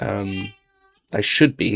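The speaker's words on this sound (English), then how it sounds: "Sorry about my cat." A house cat lets out a short meow that starts and ends at a pause in a person's nearby speech, with talking before and after it.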